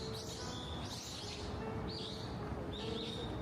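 Small birds chirping on a morning in Tokyo near Osaki Station, repeated high tweets in short bursts over a soft steady background hum, moderately distant.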